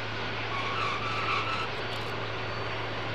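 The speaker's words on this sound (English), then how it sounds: "32 tires burn rubber every time this 600-ton behemoth touches down." Tires of the 600-ton Antonov An-225 Mriya, all 32 of them, scraping and screeching as the giant cargo jet touches down, heard as a steady, loud rushing roar with hissing grit that holds for about three seconds without voices.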